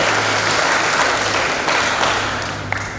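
Crowd of students clapping together at a school traffic-safety outreach event in Indonesia, a steady dense applause that holds for about three seconds and tapers slightly at the end.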